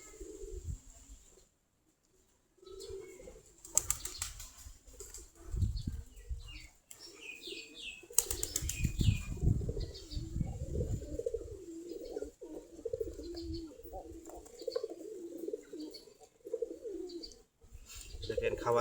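A flock of about 45 pairs of local Giribaz pigeons coos continuously after feeding, with bursts of flapping wings cutting through the steady close chorus.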